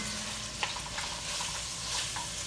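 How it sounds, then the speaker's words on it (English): Bacon and onions frying in a pan with red pepper flakes for old-school fried cabbage, giving a steady, close, dense sizzle with a few faint stirring scrapes and no talking. "Nothing better than the smell of bacon and onions, huh?"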